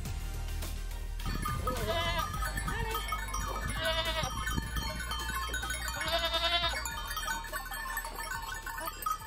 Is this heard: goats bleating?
yes